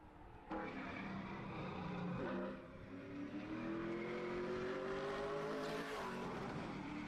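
A race car engine roars loud and close during a qualifying lap at the Harvest Classic, revving hard out of the turns, its pitch climbing steadily across the lap before dropping as it passes.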